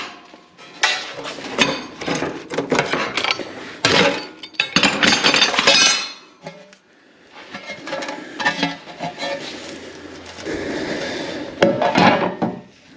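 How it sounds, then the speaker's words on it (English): Metal clamps are undone from a welded air tank mount for a Jeep Gladiator EcoDiesel, giving close clanking, scraping and rattling bursts of metal handling with short pauses between them. "Let's undo the clamps here and see how we did."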